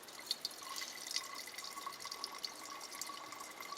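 Water trickles into a Sawyer Mini filter pouch, a faint, steady filling sound with a few small drips and splashes, heard close and alone.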